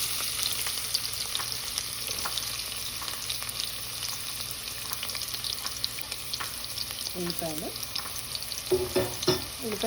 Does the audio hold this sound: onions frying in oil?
yes